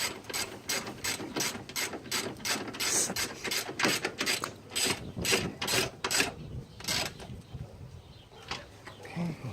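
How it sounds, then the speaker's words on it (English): Rapid repeated clicking of a ratchet tightening a bolt in the engine bay of a 2013 GMC Terrain, close and fairly quiet, in bursts of quick strokes that slow and pause near the end. "This one needs to be tightened right here."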